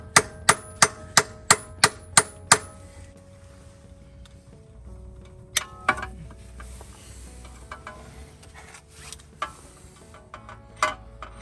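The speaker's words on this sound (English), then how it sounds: "we're gonna strike it with the hammer just a little bit to make sure it's fully seated in" A hammer strikes a steel tool seated in an axle bolt on a 2006 Audi A4 B7, seven quick evenly spaced metallic clanks up close, followed by scattered lighter taps and clinks.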